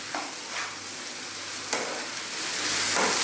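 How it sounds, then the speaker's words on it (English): Onions and curry leaves frying in a pan over medium heat for a beef coconut curry, a steady close sizzle with occasional stirring scrapes and crackles, no talk. "our onions are starting to cook now"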